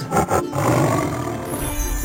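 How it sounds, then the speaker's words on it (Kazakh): A loud tiger roar rumbles low and steady, preceded by a couple of short growling bursts, close and unaccompanied by speech. "Жолбарыс."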